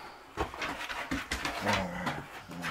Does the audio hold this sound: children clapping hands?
no